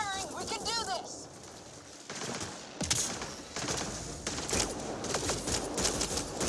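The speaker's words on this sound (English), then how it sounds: "Just keep firing, we can do this!" Gunfire in the Mass Effect Andromeda game: a brief voice early on, then a loud crack and a stream of rapid shots and bursts over a rumbling battle bed.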